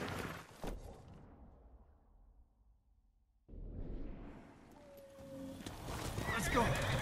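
A horse in the Ghost of Tsushima video game neighs loudly and close by. Hoofbeats and a brief near-silent pause come before the whinny, and a rising rush of game sound follows it.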